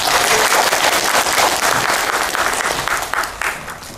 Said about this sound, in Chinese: 那我们掌声鼓励高教授。